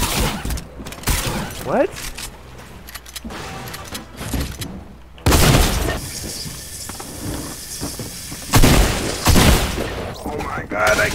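Video game gunfire bursts out in loud, dense volleys mixed with clashing game effects, breaking off and returning in several waves while a voice briefly speaks.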